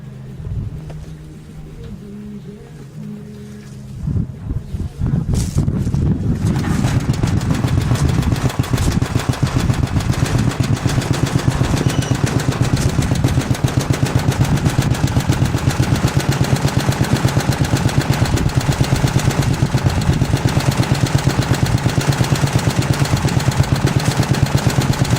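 A pull-started S-17 engine sputters for a few seconds, then catches and settles into a loud, steady, rapid idle that runs close and continuous, with no talk over it.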